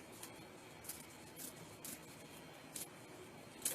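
Scissors snip a piece off for a Santa hat, several short quiet cuts spaced irregularly over a faint background hiss, close up with no talking.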